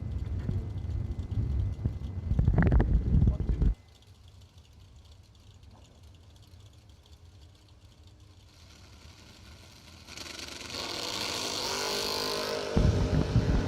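Drag race cars at a bracket race launching, one a Chevy II, with a loud engine burst that drops to a distant low rumble before a strong, sustained roar builds again.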